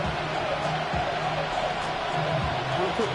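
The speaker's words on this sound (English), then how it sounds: "The crowd making their presence felt." Football stadium crowd roaring on third down, a steady, loud wash of many voices filling the clip without a break, with a few faint calls standing out above it.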